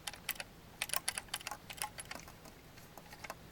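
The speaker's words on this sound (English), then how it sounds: "the only thing that seems to be rattling is maybe the fan" A Power Jack MPPT solar charge controller is shaken by hand, and small plastic parts inside rattle and click in quick, irregular bursts, faint and close.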